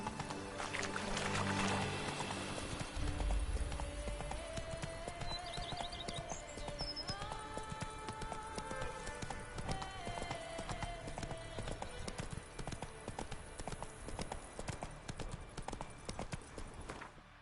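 Hooves of the horse Roach clip-clopping in The Witcher 3: Wild Hunt, Blood and Wine, an even walking rhythm over a bed of game music, with heavier thumps near the start.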